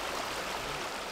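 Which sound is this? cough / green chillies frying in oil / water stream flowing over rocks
water stream flowing over rocks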